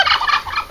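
A turkey on a small farm in the Bulgarian countryside gobbles in one short, rapid rattling burst, close and fairly loud, with no voices over it.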